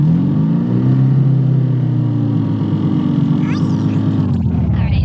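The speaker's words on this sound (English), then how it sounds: "I'm gonna drive over there" A VW car's engine drones steadily from inside the cabin as it pulls away, a low continuous rumble with slight rises in pitch and no pauses.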